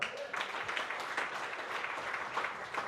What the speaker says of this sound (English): let's all put our hands together for how stunning all the bridal party look tonight